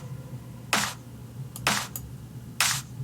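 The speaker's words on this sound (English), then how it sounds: "So that's how the clap sounds" Three separate electronic claps from a trance track ring out with reverb, each a bright short burst with a washy tail, fairly quiet over a low steady background hum.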